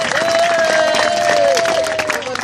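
Audience clapping at a speech, dense applause and crowd noise running loud and steady throughout, with a sustained tonal hum above it and some voices mixed in.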